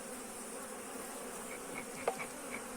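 Honeybees hum and buzz around a hive in cold weather at close range, a soft continuous drone with a few individual bees passing nearby.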